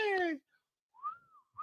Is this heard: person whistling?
yes